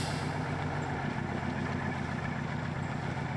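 A large truck engine idles steadily in the MudRunner video game, a continuous deep rumble at even loudness throughout, with no talk.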